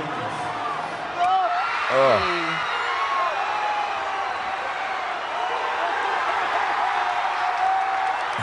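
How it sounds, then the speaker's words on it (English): A stadium crowd roaring at a Miami versus Appalachian State college football game at Hard Rock Stadium, a dense continuous wash of cheering and shouting with rising whoops, a voice exclaiming briefly near the start. "the crowd went wild at the University of Miami versus Appalachian State game yesterday"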